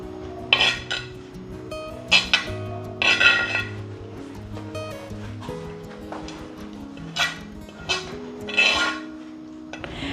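Coconut mix and fish tipped into a clay pot for Kerala-style meen peera, giving a handful of sharp utensil clinks and scrapes against the pot, spread through the clip over a steady tonal background.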